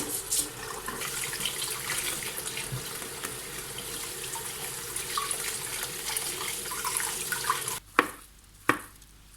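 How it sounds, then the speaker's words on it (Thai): Bee mushrooms rinsed quickly under a running tap, giving a steady splash of flowing water with soft handling sounds, followed by two sharp knocks as the water stops; nobody speaks. "เราก็ล้างแบบว่าล้างอย่างรวดเร็วนะคะเพราะว่า ไม่อยากให้เห็ดเขาอมน้ำมากเกินเนาะ"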